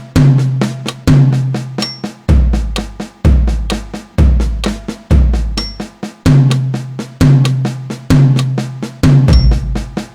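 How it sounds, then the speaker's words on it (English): Drum accents and ghost notes are played on the toms in a steady repeating pattern, loud accented hits alternating with soft ghost strokes, close and dry with no voices. "if we put all that together, all the way through playing it on the toms, would go like this"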